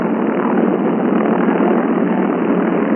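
A B-29 Superfortress bomber's four piston engines, 2,200 horsepower each, warming up together in a dense, steady, loud rumbling drone that holds without letup.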